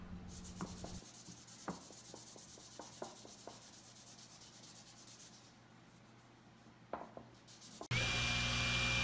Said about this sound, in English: I'll use a tack cloth to get most of this sawdust off